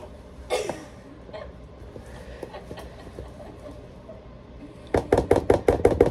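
A spoon working chocolate chip cookie dough by hand, with scattered soft taps early on, then a rapid series of sharp knocking scrapes against the bowl near the end.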